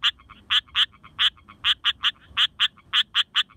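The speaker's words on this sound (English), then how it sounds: "This is the striped rocket frog from northern parts of Australia." Striped rocket frog from northern Australia calling alone in a rapid series of about a dozen sharp, duck-like quacking notes, some paired, close and clear over a faint low background.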